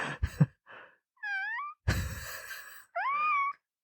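A cat meows and wails several times in drawn-out, rising cries separated by short pauses, with a few breathy sounds at the start.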